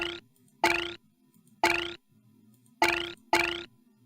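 A little bell chime in the video game Myst rings five times in an uneven rhythm, each strike bright and clear with a short ringing decay, separated by quiet gaps.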